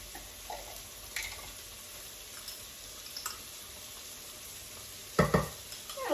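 Onions and garlic sizzling softly in a pan for stuffed cabbage rolls, a low steady fry broken by a few stirring scrapes and a louder clatter near the end.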